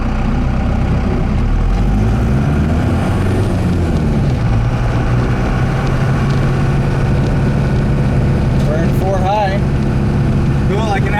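A vehicle with a 1978-79 Dana 44 straight axle drives on gravel in four-wheel drive high, a loud continuous engine drone and rumble close by, with a person talking over it.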